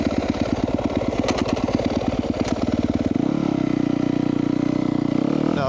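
A 2017 Yamaha YZ250F dirt bike engine, freshly rebuilt and warmed up, runs close by with rapid popping revs that settle into a fast, even idle putter.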